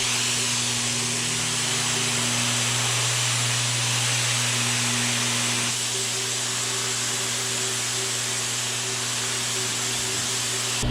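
A paint spray gun applying paint to a car panel in a home garage, a loud continuous hiss of air and spray with a steady compressor hum underneath, running unbroken.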